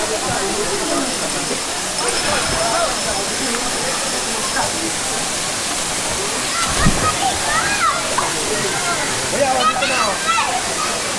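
Inaryan Falls in Camarines Sur, Philippines, roars as a steady, loud, broadband rush of falling water, constant throughout with faint voices of visitors mixed in.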